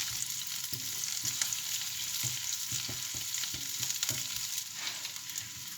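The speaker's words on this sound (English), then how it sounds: "Just soften up that garlic, release some flavours into there." Garlic softening in a pan over moderate heat gives a gentle, even sizzle, punctuated by a regular series of soft stirring knocks and scrapes, with no one speaking.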